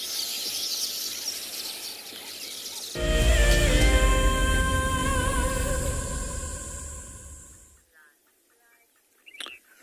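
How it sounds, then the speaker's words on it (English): Weaver birds chatter and call from reed beds in South Africa, a dense, busy chorus close by that swells for several seconds before fading out. "You can probably hear all of the weavers."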